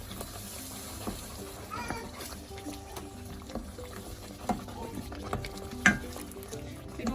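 Spoon stirring a tomato and onion mixture in a pan, with soft scraping and a faint sizzle, closely heard with occasional clinks.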